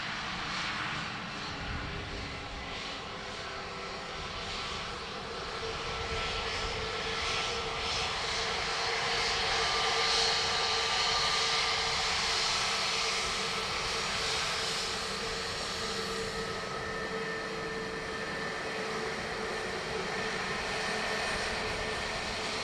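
An Aer Lingus Airbus A321neo arriving from Paris gives a sustained jet engine roar that swells gradually and holds steady, a broad rushing drone with a faint whine on top.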